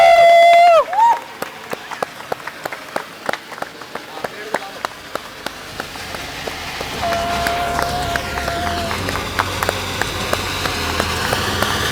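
Rain patters steadily outdoors during a birthday cake cutting at a used bike dealership, the hiss of falling drops growing heavier, under sharp claps, cheering and people singing and talking nearby.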